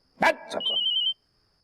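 A brief sharp sound comes first, and then a telephone rings: a rapid pulsed electronic trill that lasts about half a second and stops abruptly, close and clear.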